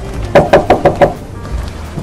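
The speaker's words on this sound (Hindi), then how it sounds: "इतने में बाहर दरवाजे पर दस्तक होती है।" Five quick cartoon-style knocks rap on a door in an even rhythm, loud and close, followed by a short quiet stretch with faint background.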